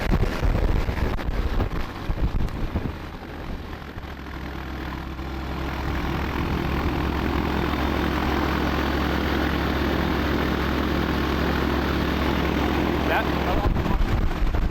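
A Rotax 912S aircraft engine installed on a Zenith CH701 runs up to high RPM, a loud steady propeller drone that builds and holds with strong wind buffeting, while someone talks over it.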